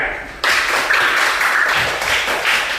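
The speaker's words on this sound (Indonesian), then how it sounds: "Nah, tepuk tangan" Applause from a class of students in a school coaching session, a burst of many hands clapping that starts suddenly and continues steadily at close range, with no talk over it.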